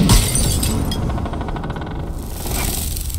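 A glass lantern shatters in the video game Baldur's Gate 3, giving a loud, dense burst of breaking glass. Bright tinkling shards then scatter and rattle for several seconds.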